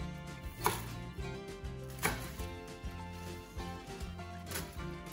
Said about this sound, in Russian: Пару перьев зеленого лука мелко нарезаю.